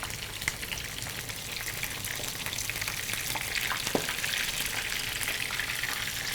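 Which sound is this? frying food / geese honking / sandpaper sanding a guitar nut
frying food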